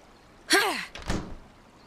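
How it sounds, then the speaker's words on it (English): A door is kicked down in the video game Oxenfree: a sharp, loud wooden slam followed by a short, rattling thud as it gives way. "kicking the door down?"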